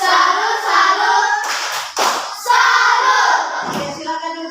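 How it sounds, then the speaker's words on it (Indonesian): A classroom of children doing a rhythmic salute clap in an Indonesian primary school, loud close bursts of clapping with chanting voices between the claps. "tepuk salut untuk Naya."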